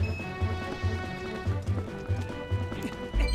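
Galloping horse in The Legend of Zelda: Twilight Princess HD, its hooves clip-clopping in a quick steady rhythm at close range, with a brief whinny near the end.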